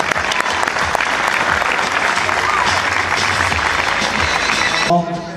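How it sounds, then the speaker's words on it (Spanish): Sustained, loud applause from a large audience at a secondary school graduation ceremony in Tostado, honoring the class of 2022, with dense clapping throughout before cutting off abruptly near the end. "Renovemos el fuerte aplauso para la promoción"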